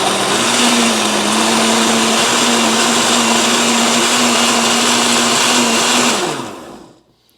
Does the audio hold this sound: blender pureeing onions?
yes